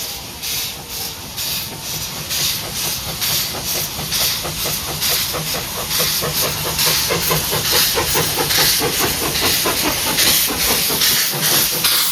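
Puffing Billy, a vintage steam locomotive on the heritage railway from Belgrave to Gembrook near Melbourne, hisses loudly with rhythmic, regular chuffs of steam and a steady rail clatter, close and continuous.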